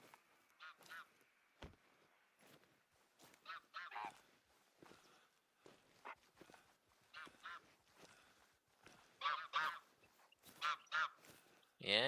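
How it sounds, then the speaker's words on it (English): Geese honking overhead in the hunting game TheHunter: Call of the Wild, set in Finland, a faint scattering of repeated calls in short bursts, growing louder toward the end. "Yeah, I hear you above me, geese."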